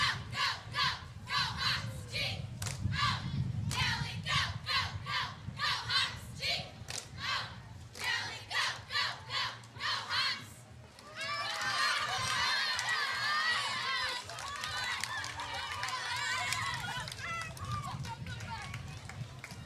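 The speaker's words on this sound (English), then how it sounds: "This is the Cooper cheerleaders, and the cheer is on." High school cheerleaders in orange and navy at a summer town parade shout cheers in rhythmic bursts with thumping stomps, then a sustained crowd of voices cheering and yelling, loud and close throughout.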